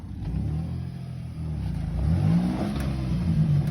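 An off-road vehicle's engine revs while backing up on a rough trail at Kane Creek, a close, steady mid-pitched growl that rises in the second half.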